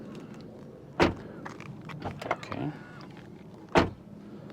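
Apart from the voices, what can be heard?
2024 Ford Mach-E car door closing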